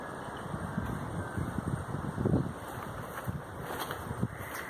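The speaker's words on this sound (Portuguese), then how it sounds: "O vento está soprando um pouco forte." Strong wind blows around an old abandoned house surrounded by woods, a steady broadband rush with gusty surges and buffeting on the microphone, with no talking.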